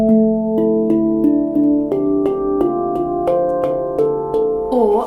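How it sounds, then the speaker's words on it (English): A handpan is struck at the centres of its notes with curved fingers, giving about a dozen warm, bassy, ringing tones in a steady, unhurried sequence, close and clear with no talking. "Sometimes I like to curve my fingers and aim for the center of each note to get a more kind of warm,"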